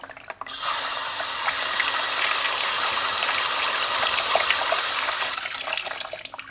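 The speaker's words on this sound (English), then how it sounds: "Clean these out the best way known with a garden hose." A garden hose sprays water into the mud-filled cylinders of a flood-damaged old Honda engine, a loud, steady rushing gush that starts abruptly, runs about five seconds and cuts off, with no talk.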